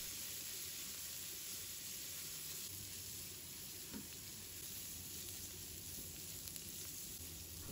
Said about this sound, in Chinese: 继续翻炒均匀，把花菜炒至上色